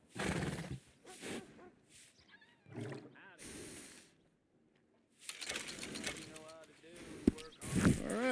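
A horse in the Western game Red Dead Redemption 2 whinnies and snorts amid hoof clops, with people talking in between and around the animal sounds.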